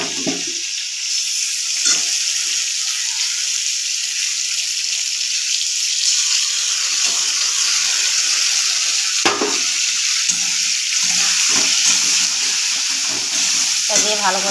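Ginger, cumin and chili paste frying in oil in a pan for papaya curry gives off a continuous bright sizzle, close and steady, broken by a few stirring clinks and scrapes.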